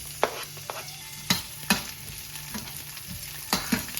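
Garlic sizzles softly in a pan while a utensil stirs it, with a few sharp scrapes and taps against the metal over a steady low frying hiss and no voices.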